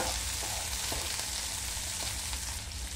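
Tomatoes and onions fry in a pan for restaurant-style chicken do pyaza, giving a loud, steady, close sizzle with a few faint stirring knocks, with no talking.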